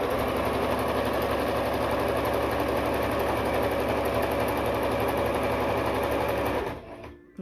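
A sewing machine stitches a ribbon skirt in a steady, dense whir that runs close and loud for nearly seven seconds, then stops abruptly, leaving a short quiet tail.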